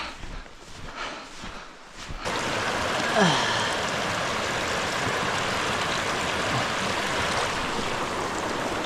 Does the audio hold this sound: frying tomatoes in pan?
no